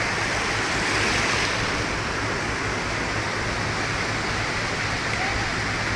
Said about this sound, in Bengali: এখন বড় ঢেউ দেখুন দেখুন, বড় ঢেউ দেখুন দেখুন